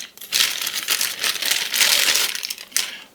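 Plastic packaging crinkles and crackles as a charcoal filter is unwrapped, several close, loud rustling bursts over about three seconds.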